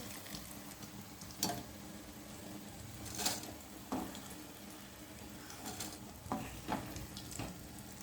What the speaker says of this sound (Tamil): கத்திரிக்காய் பொரிஞ்சா நல்ல சரசரசரான ஒரு சத்தம் வரும்.